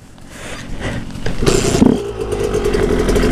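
A 125cc enduro motorcycle from the 2000s being started outdoors: a kick-start clatter, then the engine catching and rising into a loud close idle with uneven revving.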